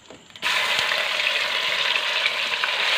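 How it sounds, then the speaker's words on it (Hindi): Chicken sizzles loudly in hot oil in a pan for dhaba-style chicken curry, a steady close frying hiss that starts abruptly after a brief quiet moment and carries on without talk. "चिकन हमने शामिल एक बहुत ही प्यारे और बहुत ही खूबसूरत कलर के साथ फ्राई करेंगे"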